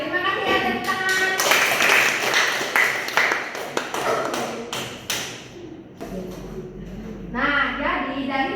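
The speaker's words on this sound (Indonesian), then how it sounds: "tepuk tangan" Group of people clapping in a room, a burst of dense, sharp hand claps that thins into scattered taps and mixes with voices.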